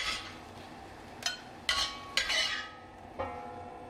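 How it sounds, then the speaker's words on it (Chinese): Stir-fried chili peppers get scooped out of a wok into a bowl with a few distinct scraping clanks of a spatula against metal over a soft background sizzle. "然后把辣椒盛入碗里备用。"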